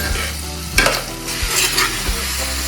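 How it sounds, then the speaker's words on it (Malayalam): A spoon stirs masala for star fruit pickle in an iron pan, giving a few scraping strokes and clanks over a light, steady sizzle, close by with no talking. "മസാല ഇളക്കിയാണ്."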